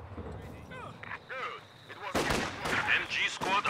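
Gunfire and artillery in the Company of Heroes 2 battle game, sharp bursts and heavy booms that grow louder in the second half, mixed with shouted soldier voices.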